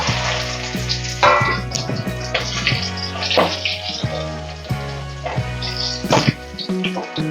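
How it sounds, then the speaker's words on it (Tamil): Garlic and dried red chillies sizzle in hot oil as the base for drumstick-stem rasam, a continuous crackling fry heard under steady background music. "ரசம் செய்கிறதுக்கு எண்ணெய் ஊற்றலாம் முதல்ல பாருங்கள் பூண்டு காஞ்சி மிளகாய்"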